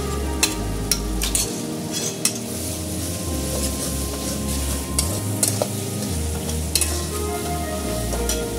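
Ginger-garlic paste frying with ground spices in a pan for a Bengali mutton curry, a steady close sizzle broken by repeated scraping strokes of a stirring spoon against the metal.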